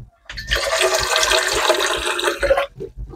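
Water runs steadily into a cooking pan for a few seconds, a loud, close rushing pour with a short quieter trickle at the end, while a flan made with condensed milk is being prepared.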